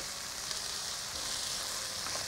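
Tomatoes sautéing in a pan with salt for dal give off a soft, continuous sizzle, steady and fairly faint, with no voices.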